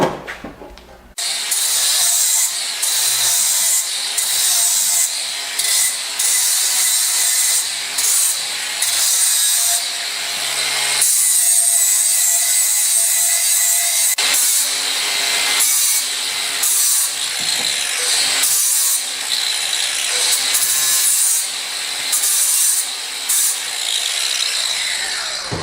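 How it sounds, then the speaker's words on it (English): A grinder works on trailer metal in close, loud bursts of harsh high grinding, with short pauses and one longer stop midway. "Now we're going to take our grinder. Yeah. And we'll dress it up a little bit."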